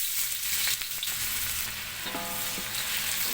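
Chopped onion dropped into hot cooking oil, frying with a steady close sizzle and occasional stirring scrapes, no talk.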